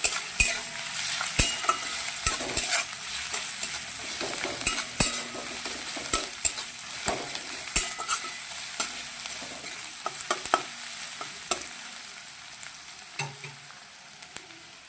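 Chopped garlic sizzles and fries with leafy greens in a pan, a steady crackle broken by frequent sharp utensil scrapes and taps as the mixture is stirred, close and fairly loud throughout.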